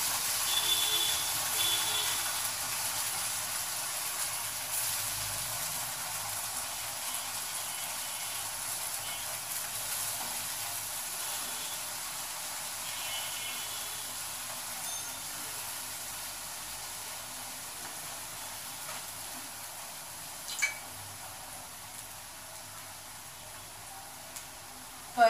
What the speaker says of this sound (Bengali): এখন শুধু ভাজিটা করব। দিয়ে দিচ্ছি শাকগুলা।